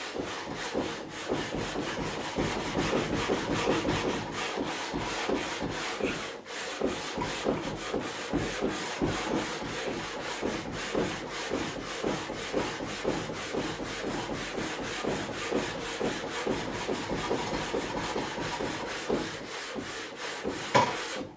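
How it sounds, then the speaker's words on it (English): Sandpaper rubs back and forth across the radius of a Telecaster-style guitar fretboard during a refret, a continuous close scratchy rhythm of quick strokes. "The sandpaper's ready to be changed at the moment, so just turn it around, see how much more we can get out of it."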